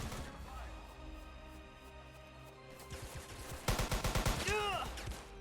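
Gunfire in the video game Easy Red 2, a burst of rapid shots late in the clip over steady battle noise, with a voice speaking briefly.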